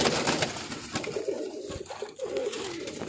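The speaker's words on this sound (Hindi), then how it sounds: "ये भी कबूतर, वो भी कबूतर, कबूतर ही कबूतर।" Pigeons cooing close by in a backyard bird setup, soft repeated throaty coos layered over one another amid a busy background of other birds.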